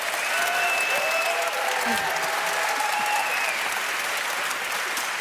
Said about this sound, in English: Big applause for you guys.